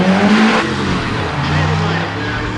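Race car engines rev and roar in Need for Speed: ProStreet, a loud close drone with rising and falling pitch and a faint tire squeal, while a voice talks over it.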